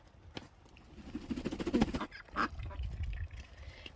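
Ducks kept on a small farm quack in a quick cluster of calls, fairly faint and not far off, followed by a softer call and low background noise, with no talk.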